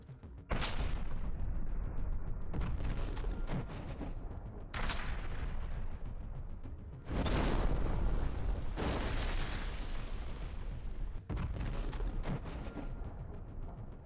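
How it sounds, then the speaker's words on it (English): Heavy artillery fire against enemy positions: several loud, booming blasts follow one another at intervals, each rolling on with a long rumbling tail and no voices over them. "Intelligence is detecting Ukrainian armed forces personnel in their positions, and artillery units are rapidly opening fire."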